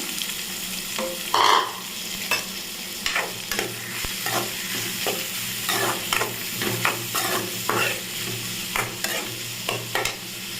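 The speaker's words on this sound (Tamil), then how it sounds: "நம்ம வெங்காயத்தை நறுக்கி வச்சுருந்தோம்ல அதை நம்ம சேர்த்துக்கலாம் சேர்த்து நல்லா வதக்கிக்கலாம்" Chopped onions sizzle steadily in a hot pan for a fish puttu while a utensil repeatedly scrapes and stirs, producing irregular clacks over the constant frying crackle.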